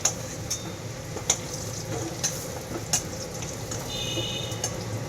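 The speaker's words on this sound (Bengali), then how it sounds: "ভালো করে ভেজে নেব।" Continuous sizzle of potatoes frying in oil with sharp metallic taps of a utensil stirring the pan every second or so, close and moderately loud.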